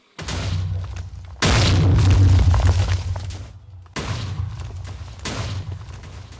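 Heavy booming explosions from an orbital strike cannon in Minecraft: a loud blast, then a long rumbling roar, followed by two more sharp, close detonations that decay into rumble, with no talk.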